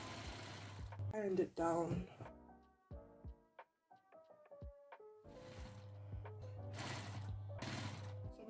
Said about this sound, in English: I'm gonna sew along the sides and the bottom and leave the top open